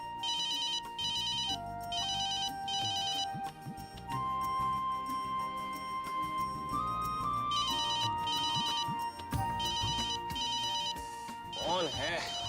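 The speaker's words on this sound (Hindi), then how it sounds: "ये अर्जुन फोन क्यों नहीं उठा रहे हैं?" A telephone rings repeatedly in regular bursts, a bright electronic trill pausing between rings, with a soft musical score playing underneath.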